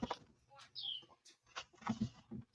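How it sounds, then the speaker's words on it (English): Birds chirp at dusk with short, scattered calls and a high whistled note, fairly faint and separated by quiet gaps, with some low background noise. "birds will chirp quite a bit at night before"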